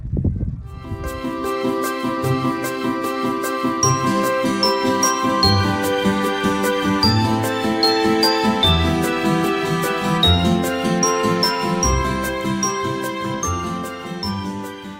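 A bright school handbell rings continuously and rapidly for a long stretch at a first-day-of-school ceremony, its shimmering metallic clangs loud and close with no pause.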